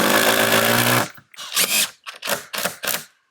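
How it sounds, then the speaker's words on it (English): Power drill driving screws into the edges of 3/4 inch tongue and groove OSB decking on a tiny log cabin: a loud steady whir for about a second, then four short bursts in quick succession, close up. "just gonna put a few screws in the edges to keep it in place while we get the other ones going"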